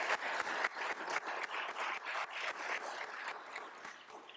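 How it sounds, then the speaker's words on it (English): Steady round of applause from an audience at a public service award ceremony hosted at a chancellor's house, moderately distant and fairly quiet, sustained without speech. "So if you can help me give them a round of applause,"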